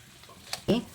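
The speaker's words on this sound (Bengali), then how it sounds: "তারপর আবারও মশলার সঙ্গে ভালো করে একটু নেড়ে চেড়ে মিশিয়ে নিচ্ছি।" Spices stirred with crushed dried kasuri methi in a pan for an aloo dish, giving a brief scrape and a short sizzling burst near the end.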